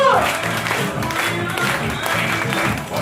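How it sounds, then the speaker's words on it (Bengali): An audience applauding the managing director at a sales training session, a dense continuous clatter of many hands clapping together, moderately loud and steady for a few seconds with voices mixed in. "এমডি স্যার জন্য জোরদার ক্ল্যাপিং।"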